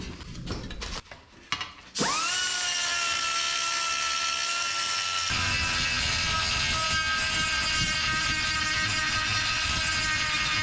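A rotary grinding tool fitted with a reamer bit spins up after a few clicks and handling noises, then whines loudly and steadily against metal, its pitch shifting slightly partway through.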